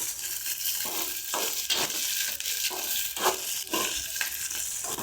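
Onions frying in a pan for mint and dill chutney, with a steady loud sizzle and crackle broken by repeated scraping stirs at a regular pace, close up and without voices.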